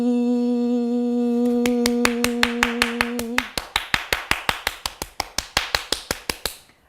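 Cupped hands clap rapidly on a leg during massage treatment for a strained Achilles tendon, a quick even train of crisp slaps, close and distinct, following a steady humming tone.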